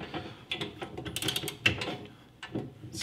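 A big heavy-duty key winding a 1911 International Time Recording Co. time clock counterclockwise, with a series of close ratcheting clicks and metallic mechanism ticks in an uneven rhythm.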